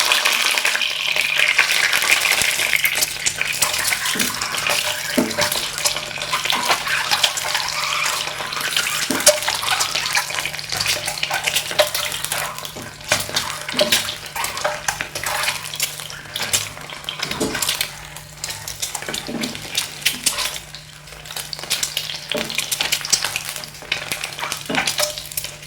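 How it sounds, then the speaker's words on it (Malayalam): Eggs fry in hot oil left over from frying onions, cooked for an egg biryani: a steady loud sizzle and crackle runs throughout, with faint clicks and scrapes of stirring and no voices. "ഇനി ഇതേ എണ്ണയിലേക്ക് തന്നെ നമുക്ക് മുട്ടയും കൂടെ ഒന്ന് വറുത്തെടുക്കാം"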